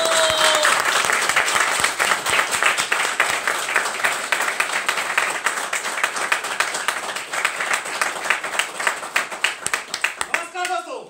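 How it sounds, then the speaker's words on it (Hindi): Loud, sustained applause from a live audience welcoming a speaker onto a stage, dense clapping filling the whole stretch and thinning near the end. "तो चलिए जोरदार तालियों के साथ हम स्वागत करेंगे"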